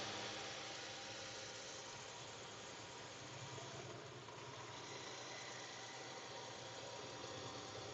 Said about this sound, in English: this tow truck sounds like the engine's about to blow up